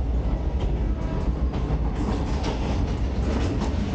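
Train on an old African railway in Tanzania pulling into a main station, a steady loud rumble of wagons with rhythmic rail clatter and faint wheel squeal throughout.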